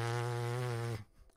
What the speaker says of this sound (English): so did you hear that? I'm buzzing.